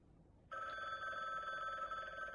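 A telephone bell begins ringing suddenly after a brief quiet moment and then trills continuously in a bright, rapid metallic ring at a moderate level.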